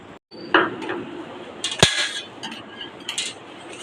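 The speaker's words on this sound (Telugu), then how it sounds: "ఇప్పుడు వీటిని కూడా నేను ముక్కలు చేసుకుంటాను" A knife chopping ripe bitter gourd into pieces on a cutting board for a raw pickle, close-up irregular knocks and taps with a few clinking, metallic hits spaced through the clip.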